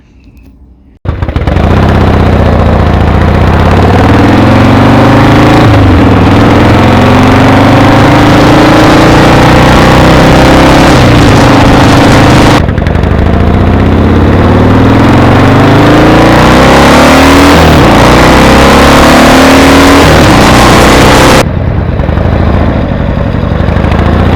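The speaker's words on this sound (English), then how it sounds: "we'll take it out for a spin" Harley-Davidson Softail Fat Boy motorcycle engine running loudly and close for over twenty seconds, with a steady idle broken by repeated revs that rise and fall, cutting off near the end.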